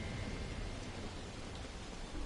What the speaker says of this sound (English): It is raining indeed